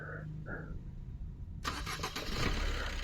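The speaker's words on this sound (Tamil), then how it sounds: "இப்போ அப்படியே நம்ம வண்டி ஸ்டார்ட் பண்ணோன்னு வச்சுக்கோங்க" A car engine cranks and catches partway through, preceded by a couple of faint electronic beeps, then settles into a close, rough running rumble without any talk.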